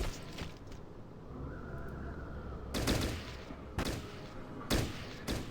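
Gunfire in the video game Fallout Tactics, a few sharp separate bursts over a steady low ambient game backdrop, spaced about a second apart.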